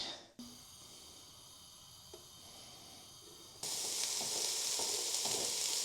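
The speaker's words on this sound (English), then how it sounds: "now I'm going to basically fry that off, add the mince, add the tomatoes and everything else, and just let it cook" Vegetables sizzle steadily in a large pan, the frying hiss growing louder partway through as the heat builds, with a few light utensil clicks.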